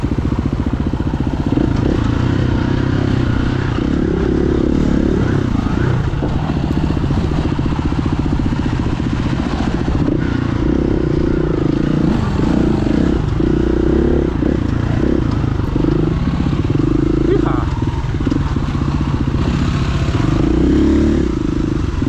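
A Yamaha trials motorcycle engine runs and revs at a lakeside trial, a steady mid-pitched buzzing drone with rattling clatter throughout, fairly close and constant in loudness.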